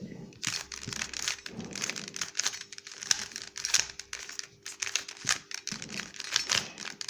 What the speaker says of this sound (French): Je vais faire le Rubik's Cube 3x3 pour vous l'apprendre. Donc là il est fait, je vais le mélanger.